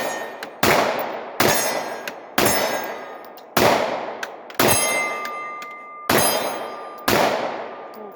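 A Palmetto out-the-front dagger knife snaps its slide blade open with sharp metallic clangs, seven loud, evenly spaced firings each ringing briefly before the next, fired one-handed.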